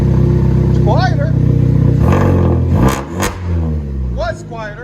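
A 2011 Kia Optima SX T-GDI with a straight-pipe exhaust revs loudly and close by, rising in pitch with the throttle and then falling back, while people talk over the engine.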